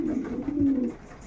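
Racing pigeons coo softly inside a loft: one low, rolling coo that swells and then trails off into quiet.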